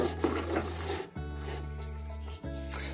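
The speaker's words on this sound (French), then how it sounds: "On vient mettre la roue sur l'axe." A lawnmower rear wheel slides onto its axle with soft, brief rubbing and scraping, set over a steady low hum.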